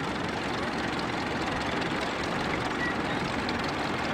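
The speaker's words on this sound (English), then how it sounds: "he's driving a high crop Model 15, also a very rare tractor" A steady, broadband engine drone runs throughout at constant level from a rare high-crop Model 15 tractor running nearby at a parade, without pauses or voices.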